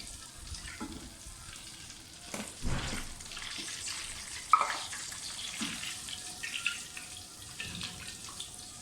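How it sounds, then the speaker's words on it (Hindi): Cumin seeds and black pepper sautéing gently in ghee in a karahi for a beef qeema karahi, a soft steady sizzle with a few louder stirring scrapes, close by and without talk. "बस हल्का सा सौते करें कि घी में खुशबू आना शुरू हो जाए।"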